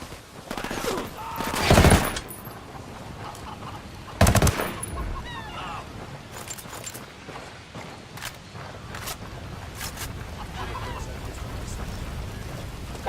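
Gunfire in the Ghost Recon Wildlands video game, with two loud sharp bursts early on and then a rapid crackle of scattered shots continuing at lower level through the rest of the clip.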